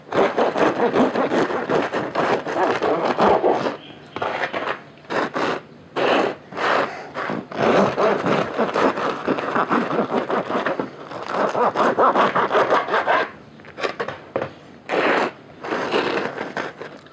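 A knife saws through a crusty sourdough onion loaf, giving loud, repeated crackling crust crunches and scraping strokes in bursts with short pauses, close up and without talk.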